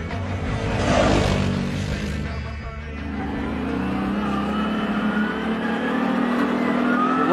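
CF Moto CFORCE 800S Black Edition quad with a V-twin engine accelerating, a steady loud engine drone with a brief dip near the middle before building again, with no voices.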